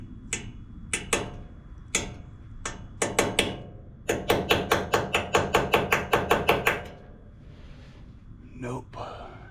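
A chisel hammered against an aluminum part of a Craftsman DLT3000 riding mower valve cover: a few separate sharp metallic strikes, then a fast run of about a dozen evenly spaced loud blows, close up, with a breath or voice near the end.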